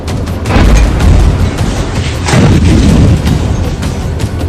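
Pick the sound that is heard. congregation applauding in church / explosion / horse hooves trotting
explosion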